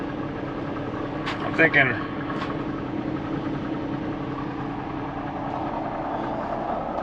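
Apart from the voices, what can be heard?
semi truck engine idling after cool down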